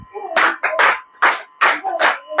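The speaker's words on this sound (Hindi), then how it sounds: "ताली बजाएं" A church congregation claps together during a Hindi-language sermon, loud, full bursts of hand clapping in a steady rhythm of about six groups, with a faint tonal hum beneath.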